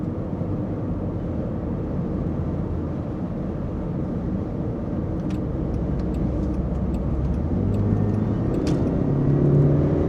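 A 2022 Land Rover Defender Heritage Edition engine while driving, a steady low drone and road rumble heard from inside the cabin, continuous and fairly loud, swelling slightly toward the end with a few faint ticks.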